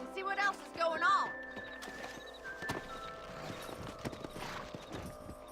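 Horse hooves clop along at a steady trot in the video game Red Dead Redemption, with a brief whinny near the start and faint voices in the background.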